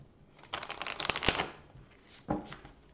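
A deck of tarot cards is shuffled for a love reading, a close, crisp riffle of card flutter followed by a short tap as the deck settles, with no talk.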